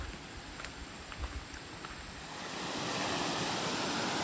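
A stream flows beside Sapteshwar Temple near Sangameshwar, a faint, continuous rush of water that swells noticeably louder partway through, with no talking.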